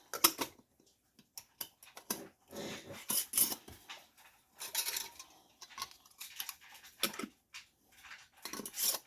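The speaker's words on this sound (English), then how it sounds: "And then I am going to put on the lid and the rings" Metal lids and screw rings being set onto glass canning jars filled with ground beef, a series of faint clinks, taps and light scraping with irregular pauses between them.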